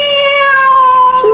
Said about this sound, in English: Oh, cat. I'm so glad to see you.